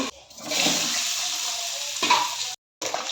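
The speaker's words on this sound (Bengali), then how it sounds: "তো এখন ডিমগুলোকে ভেজে নেব" Steady crackling sizzle of eggs frying in a pan, fairly close and continuous, briefly cutting out near the end before resuming.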